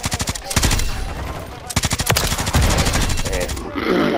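Gunfire in Call of Duty Modern Warfare 3 multiplayer, bursts of rapid automatic shots close and loud in two long strings separated by short pauses.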